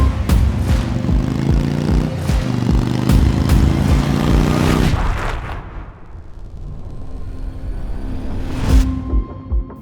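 An Indian Chieftain motorcycle with a PowerPlus 112 V-twin engine revs loud and close, its throttle blips rising and falling, then drops to a lower idle before one final sharp rev.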